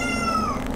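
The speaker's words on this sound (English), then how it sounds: "You guys need to listen to my cat meowing while I'm gone." A domestic cat meows in one drawn-out, slightly falling cry, close and fairly loud, with no talk over it.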